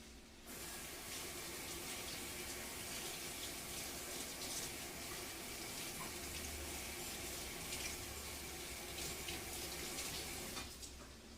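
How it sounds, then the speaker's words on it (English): Tap water runs steadily over an oily pan being rinsed in a kitchen sink, a constant broad gush lasting about ten seconds and stopping abruptly at the end, with no talking. "I'm going to rinse this out just because we used it for the oil"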